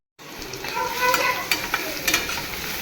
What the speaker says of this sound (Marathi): मी तेलात पहिले कांदा टाकून परतवून घेतला